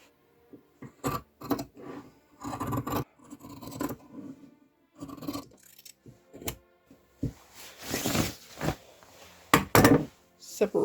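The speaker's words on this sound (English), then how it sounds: "I'm gonna cut along the line of the print." Scissors cut through blazer fabric along a printed line, giving a run of crisp snips in irregular bursts, close and moderately loud, with quieter rustling and a longer scratchy pass near the end.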